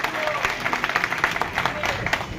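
A crowd at a political rally in Mahendergarh claps hard together, a dense, steady patter of many hands that keeps up the whole time.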